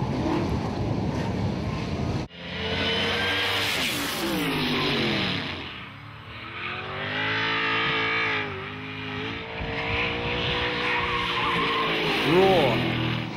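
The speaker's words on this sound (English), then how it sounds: "You can't beat that classic sound of a V8." V8 muscle cars racing in the Central Muscle Cars series, engines roaring and revving through gear changes while tires squeal and skid, with a commentator talking over much of the sound.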